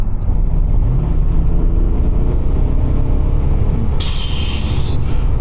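BMW 635d diesel coupe with automatic transmission, accelerating hard from inside the cabin, a loud low engine drone rising steadily in pitch, with a short high-pitched whine near the end.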